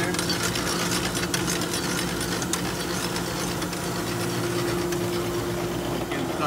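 A Vemag HP10C vacuum stuffer, fitted with a new cylinder, runs with a steady mechanical hum and faint rattling, a constant drone holding at an even level throughout.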